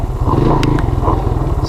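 A Yamaha DX225 ATC three-wheeler idles close by, a steady low throbbing engine rhythm with a couple of brief metallic clicks partway through.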